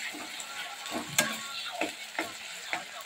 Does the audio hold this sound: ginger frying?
yes